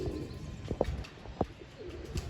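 A pigeon coos close by, with a few short sharp flutters of wings, like a bird settling onto a perch.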